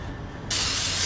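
Brake cleaner sprays onto a new rear brake rotor for a 2018 Ford Transit 350HD, a sudden steady hiss starting partway through and continuing close and loud.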